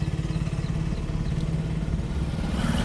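A car engine idles with a steady low rumble as the clutch is eased out slowly in small steps during a first-day driving lesson, the hum holding even and close with a slight rise toward the end.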